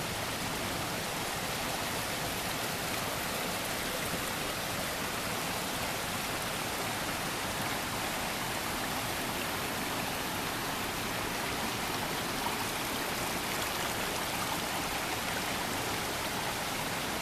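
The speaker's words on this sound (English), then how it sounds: "right next to the river, Conway River. That's looking downstream." The Conway River rushes steadily past a campsite, a loud, unbroken wash of flowing water heard up close with no voices.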